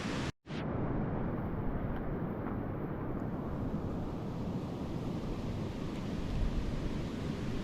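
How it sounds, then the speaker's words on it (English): Wind blowing steadily through Glen Tilt, a constant broad rushing roar that stays loud and close, like gusts buffeting the microphone, with no voices heard. "it's a bit breezy now, which is typical"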